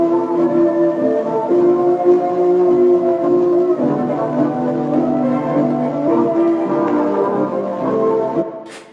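A music sample pitched down a half step with Gross Beat in FL Studio plays as a loud, sustained tonal passage of layered bell-like harmonics, alone and without talk, fading at the end.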